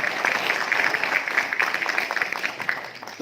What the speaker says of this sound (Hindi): मतलब ताली भी आप मार सकते हैं।